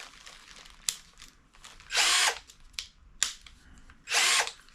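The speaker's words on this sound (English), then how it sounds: "it's also a hammer drill" A Pulituo 20V cordless hammer drill fires off two short, loud whirring bursts, separated by sharp clicks and quieter handling noise.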